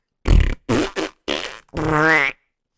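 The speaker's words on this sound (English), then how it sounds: "our wet fart of the week" Wet fart sound effect: a run of four short, loud sputtering bursts followed by a longer rising, squelchy blast, played alone with no talk over it.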